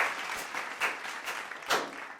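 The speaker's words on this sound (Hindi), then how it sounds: "जोरदार तालियों से इनका करें सम्मान" Audience applause rings out for top incentive earners at a national achievement awards event, a steady patter of many hands with a few louder swells, moderately distant and without speech.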